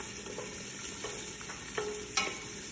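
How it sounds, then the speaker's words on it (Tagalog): Onion and spices sizzle in olive oil in a pot for kapsa rice, a soft steady frying hiss with a few sharp scraping stirs of a spoon, close and without talk. "nilagay ko na yung onion, darsin, hill. Mix ko lang siya ng konti"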